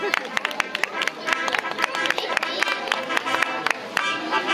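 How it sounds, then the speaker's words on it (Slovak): A crowd at a youth running race awards ceremony, the Šutrovský running marathon 2022, claps steadily for a girl winner while an announcer speaks over the patter of hands. "Takže veľký potlesk a fanfára aj pre Kristínku Hondkocovú."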